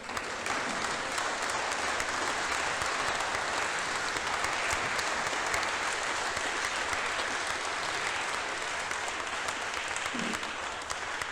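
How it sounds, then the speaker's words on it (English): An audience at a press conference gives a panel a steady round of applause, dense and even throughout, moderately loud and with no speech over it. "If you just give the panel a round of applause, please."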